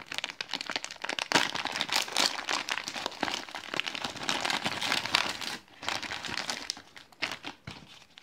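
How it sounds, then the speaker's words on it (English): Sustained crinkling and rustling of a plastic accessory bag from a US Army cold weather meal, chili macaroni with beef, being opened and handled up close, with irregular bursts and brief pauses. "Let's see what's inside the accessory bag."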